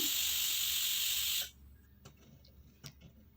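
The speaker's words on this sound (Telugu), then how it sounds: "కుక్కర్ మూత పెట్టేసేసుకొని ఒక 3 విజిల్స్ వచ్చేంత వరకు టమోటాలనైతే బాయిల్ చేసుకుందాము" Pressure cooker boiling tomatoes lets out a loud, steady steam hiss for about a second and a half, then cuts off abruptly, leaving faint clicks and taps in a quiet room.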